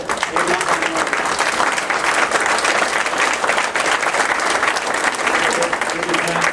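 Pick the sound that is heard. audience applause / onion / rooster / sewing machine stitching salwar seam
audience applause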